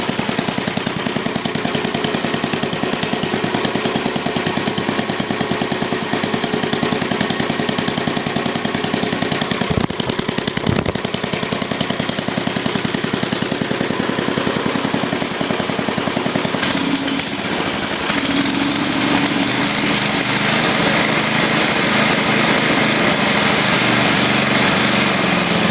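A Snow King small engine runs loud and close for the whole stretch with a steady, rapid putter. Its tone shifts slightly partway through, and no voices are heard over it.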